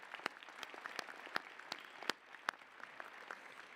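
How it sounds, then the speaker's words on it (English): At the 2021 Metropolitan Community College commencement at Starlight Theatre, an audience claps in a thin, fairly faint round of applause, with separate distinct hand claps scattered across a few seconds. "Let's give these current and former board members another big round of applause."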